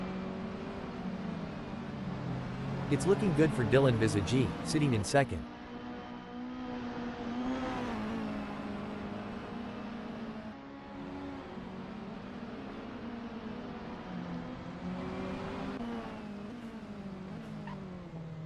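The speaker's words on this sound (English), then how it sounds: "I love listening to the roar of these engines." Mini John Cooper Works race cars roar around the Kyalami circuit, with layered engine drones rising and falling and a brief burst of tire squeal early on, while a commentator talks over the racing.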